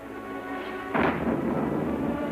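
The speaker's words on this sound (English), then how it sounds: "Yeah, it's stormy, ain't it?" A sudden clap of thunder from a storm breaks over a steady background hum, then rolls on as a broad, moderately loud rumble that lingers to the end.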